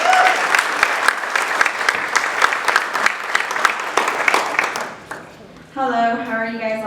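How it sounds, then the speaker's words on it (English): Loud applause from a school audience at a morning assembly, steady dense clapping for about five seconds that then fades; a voice starts speaking near the end. "Let's give them a big, big round of applause."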